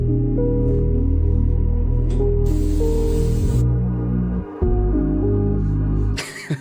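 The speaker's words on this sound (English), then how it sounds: "I spray my hair with hairspray." Hairspray sprayed onto hair, a loud hissing aerosol burst lasting about a second, followed later by another short hiss, over a steady low hum.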